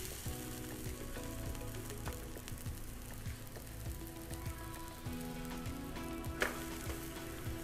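A snack fries in desi ghee in a pan, giving a soft, even crackling sizzle with faint rhythmic tapping and one sharper spatter near the end.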